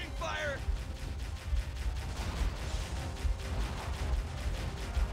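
Covering fire in Halo: Combat Evolved, a steady run of rapid, muffled shots and low booms rolling on without pause beneath a dense, noisy battle soundscape.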